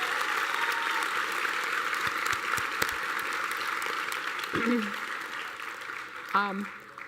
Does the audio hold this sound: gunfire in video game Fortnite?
no